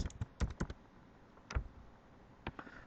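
Typing on a computer keyboard during spreadsheet data entry: quick clusters of light key clicks, then a pause, a single tap and a few more strokes, close but faint.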